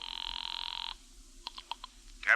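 A telephone rings in an old-time radio drama, a steady electric ring lasting about a second, followed by several sharp clicks and a louder rattle like a receiver being picked up, with no voices.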